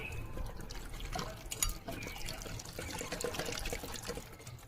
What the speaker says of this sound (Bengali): দেখো সুন্দর করে কুলগুলো ধুয়ে নিচ্ছি।